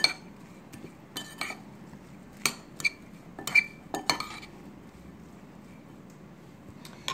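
A spoon stirs a salt cod fritter mixture with green onion, parsley and a little lemon juice in a bowl. Irregular clinks and scrapes against the dish sound close and fairly quiet, with pauses between them and no voices.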